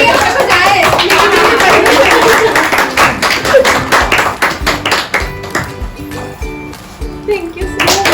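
An audience at a school convocation and teacher's day celebration claps, starting as dense, loud applause that thins into scattered individual claps, with voices talking alongside.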